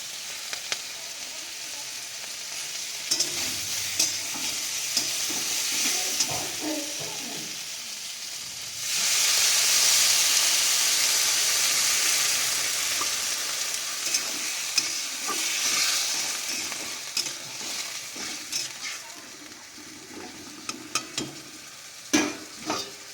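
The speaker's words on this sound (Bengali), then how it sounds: "ভেন্ডি আলুর তরকারি হচ্ছে ভেন্ডি আলু বেগুন" Okra, potato and eggplant curry sizzling and frying steadily in a pan, a constant hiss that swells louder midway, with occasional stirring clinks and scrapes throughout.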